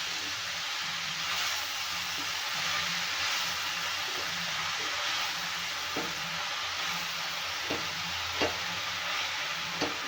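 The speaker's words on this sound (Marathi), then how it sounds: "आता हे परतून घेऊया व्यवस्थित" Mustard greens sauté in a pan with a soft, steady sizzle, broken by several sharp scrapes and taps as a spatula stirs and tosses the vegetable, close and alone without speech.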